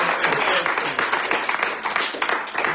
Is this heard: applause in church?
yes